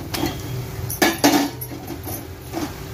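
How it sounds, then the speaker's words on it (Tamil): Cleaned mutton pieces go into a cooking pot for Tamil mutton kulambu with ginger-garlic paste, producing several metallic clanks and scrapes of utensil against pot, close and fairly soft. "நம்ம சுத்தம் பண்ணி வச்சிருக்கோம் மட்டனை சேர்த்துக்கலாம்."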